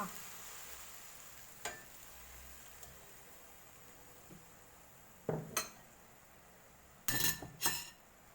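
Bean sprouts and tofu being stir-fried in a pan, a faint sizzle under sparse, sharp clinks and scrapes of a utensil against the pan, coming in a few quick bursts.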